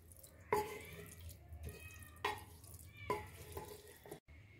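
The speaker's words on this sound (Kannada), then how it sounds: "ಒಂದೂವರೆ ಲೋಟ ಬಾಸುಮತಿ ಅಕ್ಕಿಗೆ ನಾನು 2 ಲೋಟ ನೀರು ಹಾಕೊತಾ ಇದ್ದೀನಿ" Water poured into basmati rice mixed with masala in a pot for egg biryani, several distinct splashy pours with short gaps between them, quiet and close.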